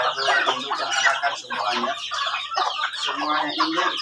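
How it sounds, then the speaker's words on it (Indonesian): Free-range village chickens, hens, a rooster and chicks, cluck busily while eating hungrily, a close, continuous overlapping chorus of clucks with no talking. "ayam-ayam yang kita pelihara, teman-teman lihat sendiri mereka makan dengan lahap"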